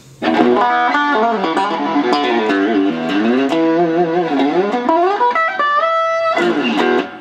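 A gritty electric guitar through a Zoom MultiStomp distortion pedal plays a bluesy run of bent and sustained notes, loud and close, with no talking.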